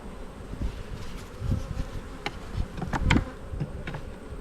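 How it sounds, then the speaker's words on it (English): Honey bees in the top box of a hive give off a steady, dense buzzing hum, close and continuous, with brief louder passes as single bees fly near. "we've got bees in the top box"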